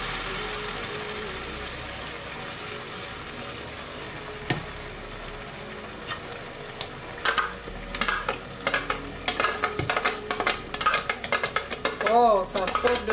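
Blended tomato sauce poured over onions frying in a pan, sizzling and stirred, building into sharp popping splatters and scraping toward the end, close and busy, with a little talk in the background.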